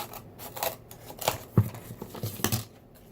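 Scissors snipping through cardboard for a doll bed and nightstand, several close, crisp cuts in quick succession with no talking.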